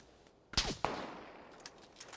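Gunfire in the battle royale game PUBG: two sharp shots close together near the middle, then fainter scattered pops trailing off, all quiet overall with no talk over them.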